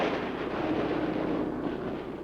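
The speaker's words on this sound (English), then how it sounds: "here is evidence of their great skill in anti-aircraft fire" Soviet anti-aircraft guns fire during the 1941 winter war, a dense, continuous rumble of distant shots and bursts on an old newsreel recording, with no voice over it.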